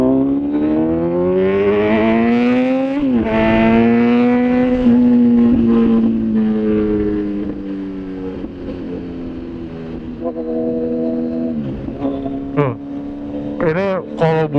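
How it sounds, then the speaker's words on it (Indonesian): A 2019 Kawasaki Z900 motorcycle engine revving up and holding high, its tone climbing and sagging through sustained throttle blips, loud and close, with a few sharper stabs near the end. "Ini kalau bunyi menurut gua bunyi motor ini tuh beda jauh sama Z800."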